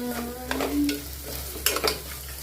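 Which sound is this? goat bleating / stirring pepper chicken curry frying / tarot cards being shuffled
stirring pepper chicken curry frying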